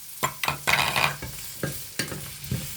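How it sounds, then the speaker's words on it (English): Butternut squash tipped into a pan for couscous alongside carrot, with sharp bursts of sizzling frying and stirring scrapes in quick irregular pulses, close and fairly loud, no talk. "So I'm just going to add my butternut squash"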